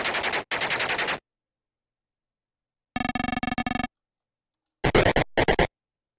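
Bursts of gunfire from tank weapons in the video game Armoured Commander: a long double volley, then a rapid rattling string, then two short clustered bursts, separated by silence.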